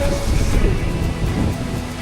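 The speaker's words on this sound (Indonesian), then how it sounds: "Siaran langsung di sini hujan besar banget," Heavy rain with thunder pours down at a mountain campsite at Mandalawangi, a loud, steady, dense roar with a low rumble underneath and no clear break.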